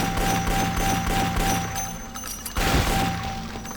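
Standard weapons fire in rapid bursts during Daikatana gameplay, with crackling shots over a steady background hum and a heavier thud near the end, all without speech.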